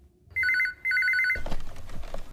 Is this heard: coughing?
no